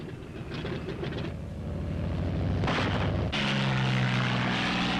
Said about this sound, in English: At the fighter fields, thunderbolts are ready.